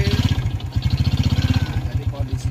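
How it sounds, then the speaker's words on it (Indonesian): A 2011 Yamaha Jupiter Z motorcycle engine idles close up, a loud, even, rapid putter of exhaust pulses, with a voice speaking briefly over it. "coba dekatkan sini ini suara mesinnya seperti ini."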